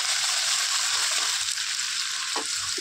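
Green chilies, ginger and garlic frying in hot oil for a dhaba-style egg tadka, a steady close sizzle with a few faint scrapes of stirring, no voices.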